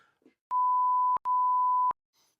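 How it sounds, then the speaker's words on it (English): Two long, loud electronic censor beeps over spoken words, in a row, each a steady pure tone with a short gap between them. "I'm going to have to beep some of these words out"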